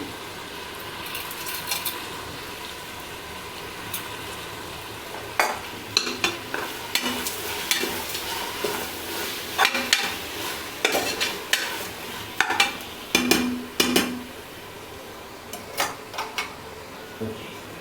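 Tomatoes sautéing in a pan for a home-style biryani, with a steady low sizzle under repeated scraping and clicking stir strokes that grow busier and louder midway, faint talk in the background.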